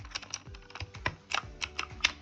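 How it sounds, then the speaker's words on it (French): Typing on a mechanical keyboard with blue switches produces a quick, irregular run of sharp clicky keystrokes, close and fairly loud, with no voice. "c'est un clavier mécanique switch bleu. Donc voilà, il fait assez de bruit les touches"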